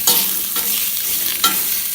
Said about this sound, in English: The lard's gonna begin to render, and they'll be frying in their own fat here in just a little bit.